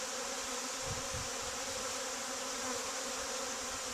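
Honey bees swarm around an opened hive during an inspection, their dense, steady buzzing forming a close, continuous drone throughout with no voices.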